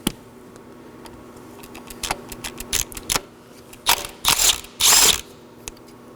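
A ratchet backs a 10mm bolt off the ignition coil of a 2013-2019 Nissan Sentra 1.8L four-cylinder. Close, crisp clicks come in short irregular bursts, ending in two longer rapid runs of ratcheting, with no voices.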